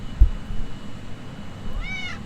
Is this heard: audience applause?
no